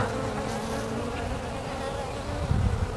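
Honeybees hum steadily while a hive is opened and checked during a split, a dense, close, continuous buzz with a slight swell near the end.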